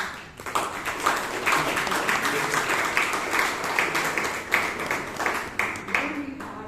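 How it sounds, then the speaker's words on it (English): Steady applause from a room full of people, with many hands clapping together at an even level throughout. "So a good round of applause to"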